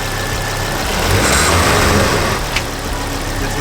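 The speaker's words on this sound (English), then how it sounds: "Now there is a slight rattle, I'm going to work out what it is. You'll hear it now." A Ford Focus ST engine, fitted with an Airtec inlet plenum, idles loudly and close with a slight rattle, a steady mechanical hum that briefly swells, with one small tap near the end.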